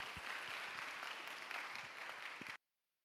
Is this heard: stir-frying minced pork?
no